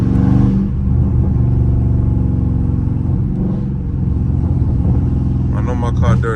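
A Dodge Charger Scat Pack V8 rumbles loud and close during a street drive, with heavy exhaust drone and surges of revving, plus some crackling near the end, while someone talks over it.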